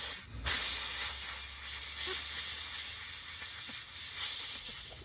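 Compressed air blowing off freshly rinsed nitro RC car parts, a sharp burst of hissing air starting abruptly and continuing as a steady, close, fairly loud spray for several seconds.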